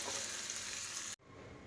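A pot of massoppu soup bubbles and simmers steadily with a soft sizzling hiss up close, cut off abruptly near the end before a quieter background continues.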